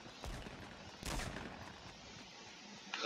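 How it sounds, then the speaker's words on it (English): Gunfire in the Fortnite battle royale, a few sharp bursts at about a quarter second, one second and near the end, fairly distant and thin against steady game background noise, with no talking. "someone shooting at me"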